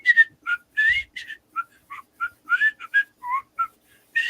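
A person whistles the Andy Griffith theme tune, a bright melodic run of short, clear notes and phrases, close by and alone.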